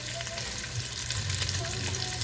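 Flour-coated lamb chunks and bacon fry on high heat in a pan, giving a loud, steady crackling sizzle with a few brief pops, close and continuous, with no talking.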